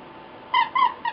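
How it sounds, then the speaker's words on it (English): A dog's squeaky toy squeaks three times in quick succession, sharp and fairly close, after a brief stretch of quiet room noise. "Running away, getting a squeaky toy."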